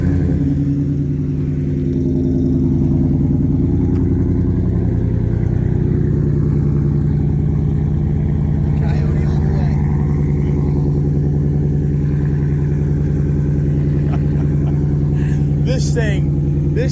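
The race truck's Whipple-supercharged engine runs continuously with a loud, throbbing low drone and steady harmonic whine, while voices are heard faintly over it.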